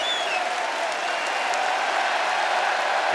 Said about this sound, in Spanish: ¡Qué ovación, Dios mío!